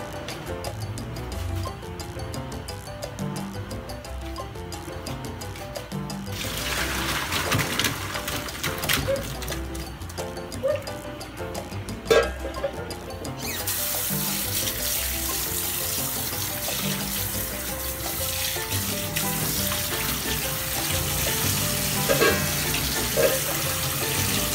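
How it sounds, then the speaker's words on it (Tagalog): Beef skin is washed under a running kitchen tap, a steady close hiss of water with splashing that swells louder partway through and carries on without a break, no voices over it. "Hugasan at pakuluin muna natin ang balat ng baka."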